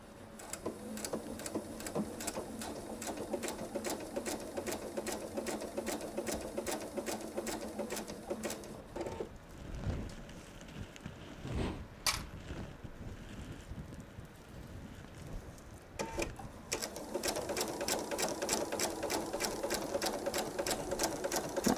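A sewing machine stitches a seam on a patriotic nine patch quilted table runner, running in a rapid, even rhythm up close, pausing midway for handling noises before resuming.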